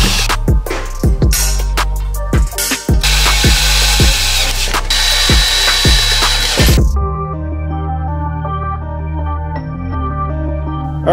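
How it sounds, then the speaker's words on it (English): A power drill whirs in repeated short bursts drilling holes to mount a custom Toyota pickup bumper, spinning up and down several times, then a steady motor tone continues to the end. "So now we just gotta drill some holes, mount this thing up"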